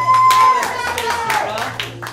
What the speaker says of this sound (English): Cheer for David, everybody